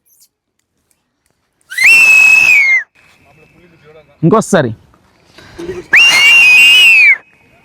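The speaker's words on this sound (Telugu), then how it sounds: "ఇప్పుడు విజిల్ వేస్తాం చూడండి" Two long, piercing human whistles ring out at Munnar echo point in Kerala, each held about a second, with a brief shouted voice and rustling between them.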